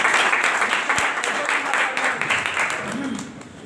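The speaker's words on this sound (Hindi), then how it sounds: "मैं चाहूंगा सर इनके लिए जो एक बार जोरदार तालियां" Hearty applause from a seated audience at a company gathering in honour of the managing director, a thick continuous wash of clapping that holds throughout, slowly tapering toward the end, with faint voices mixed in.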